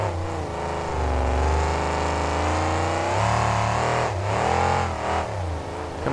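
A monster truck engine at an Oakland, California monster truck event in 2008, roaring and revving hard under heavy throttle, pitch climbing and dipping through repeated surges, loud and close.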